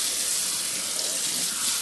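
A kitchen tap runs steadily with cool water to rinse rice, giving a continuous, close hiss and splash for the whole short stretch.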